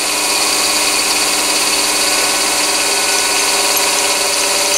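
Centre drill cutting into a workpiece on a mini lathe, a steady, close machine whir with a high bright hum holding evenly throughout, no speech.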